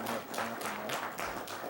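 Scattered clapping rises at a legislative committee meeting, a short burst of hand claps from a small crowd, fairly steady and moderately loud with faint murmuring beneath.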